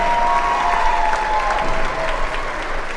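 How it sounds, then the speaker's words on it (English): An audience at a girls basketball game applauds the seniors, steady continuous clapping filling the gym at an even level, with a faint tonal hum underneath. "let's give all our seniors a round of applause"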